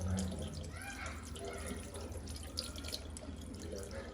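Tap water runs steadily into a sink while a face pack is rinsed off, with splashing and dripping close by and soft background noise throughout.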